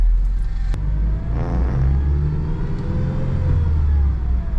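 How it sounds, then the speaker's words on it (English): A square steel-bodied Ford Ranger pickup truck rolls through Miami traffic, its engine giving a steady low rumble close by, with no talking. "Wanted to let you hear the sounds of this square steel-bodied Ford."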